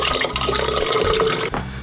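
Water pours steadily into a container to dilute Kodak HC-110 film developer to dilution B, a continuous close splashing fill that briefly drops off near the end before resuming.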